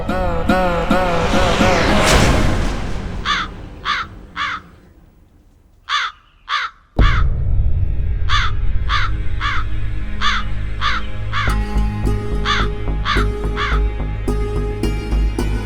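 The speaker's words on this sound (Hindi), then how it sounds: "ये कौवा कब से परेशान किए जा रहा है" A persistent crow caws again and again around a home during a household havan ritual, in loud, close bursts of harsh calls separated by short pauses, with other outdoor sounds in the background.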